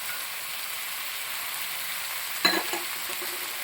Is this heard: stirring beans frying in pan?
yes